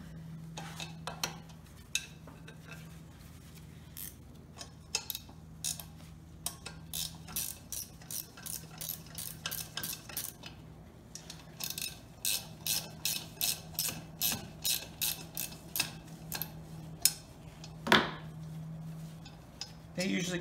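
A ratchet wrench removes 9/16 bolts from the motor adapter of a Goulds shallow well pump, a run of quick, close, clicking bursts repeating over a faint steady hum, with no talking.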